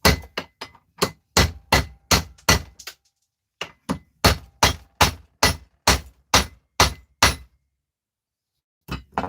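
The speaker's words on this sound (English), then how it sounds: "so I bust them with a hammer" A hammer strikes brass fittings in a shed over and over, sharp metallic bangs coming in quick bursts of several blows separated by short pauses, loud and close.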